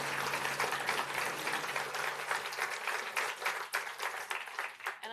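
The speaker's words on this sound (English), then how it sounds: "please join me in giving a round of applause to Sean" Warm audience applause closes a fireside chat with a rail passengers association guest, a continuous clatter of many hands that holds steady for several seconds before thinning slightly near the end.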